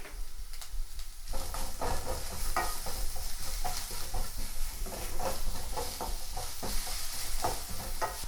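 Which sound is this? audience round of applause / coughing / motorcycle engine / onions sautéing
onions sautéing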